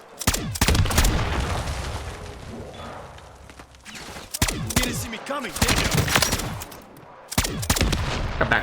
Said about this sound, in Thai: ได้เสียงเหมือนสไนเปอร์ด้วย ยิงมาด้วยนะครับ